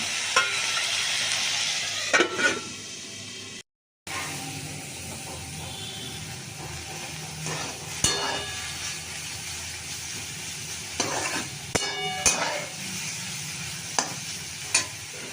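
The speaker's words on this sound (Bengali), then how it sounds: "কপিটা ভাজা হয়ে গেছে এবার এটাকে আমি নামিয়ে নেবো" Cauliflower frying in a wok with a continuous hissing sizzle, punctuated by occasional sharp clicks and scrapes of a spatula stirring, heard close up without speech apart from a brief silent gap.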